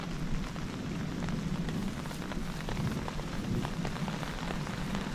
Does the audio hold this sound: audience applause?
no